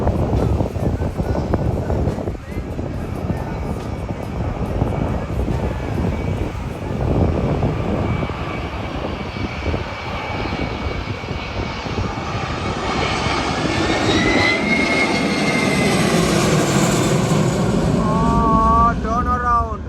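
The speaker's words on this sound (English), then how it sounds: "Turn around, go around. First ever time seeing a go around in my life." A passenger plane going around at Phuket airport, engines roaring loud and continuous as power builds and the pitch rises and sweeps near the end, with voices talking over it.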